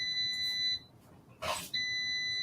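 Kitchen timer beeping during plant-based cooking, a steady high electronic tone that cuts off briefly, followed by a short noisy burst, then resumes.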